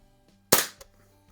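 A single sharp snap of a Crosman model 73 CO2 lever-action BB gun firing, with a faint tick of the BB striking a splatter target a moment later, close and isolated in a quiet setting.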